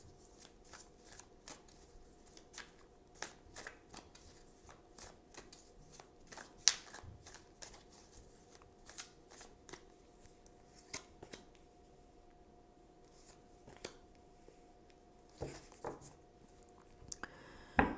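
Tarot cards are shuffled and picked one by one in a quiet room, giving soft riffling, flicking and tapping sounds in irregular bursts, close and faint.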